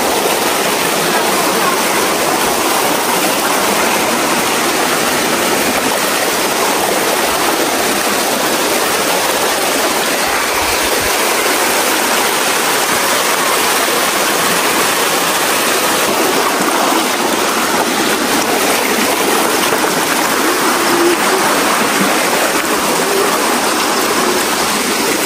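A swollen river rushing steadily through a village setting, a dense continuous broadband roar of flowing water that stays loud and unbroken throughout, with no voices.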